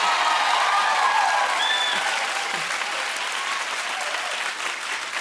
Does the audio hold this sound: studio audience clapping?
yes